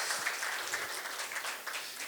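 An audience at a talk on client and citizen services applauds, giving a dense, continuous patter of clapping at moderate loudness that fades slightly toward the end.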